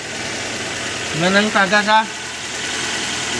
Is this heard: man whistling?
no